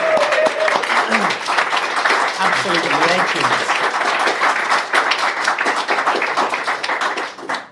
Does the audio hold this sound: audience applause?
yes